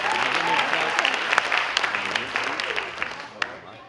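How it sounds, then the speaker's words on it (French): An audience at a benefit dinner applauds loudly and steadily, a dense close clapping crowd that slowly fades toward the end. "j'aimerais en profiter pendant que je suis là pour qu'on applaudisse très fort Dominique."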